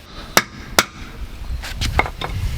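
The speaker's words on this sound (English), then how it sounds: "Gently drive a wedge in there." A steel wedge is hammered into a cracked weld while a Scamp camper axle is being replaced. Two sharp metallic strikes ring out close by, followed by several quicker, duller knocks.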